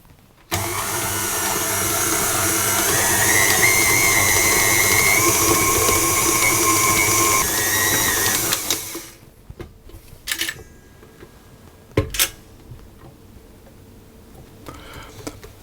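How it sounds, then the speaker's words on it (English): An electric stand mixer kneads baguette dough for Vietnamese banh mi, a loud steady motor whir with a rising and falling whine running for about eight seconds before it switches off, followed by a few faint kitchen clatters. "I'm going to start the mixer again and mix it for a further 5 minutes"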